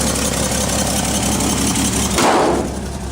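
A simple old machine with manual steering and brakes, its engine idling steadily as it warms up, a constant low rumble close by with a brief louder surge near the end.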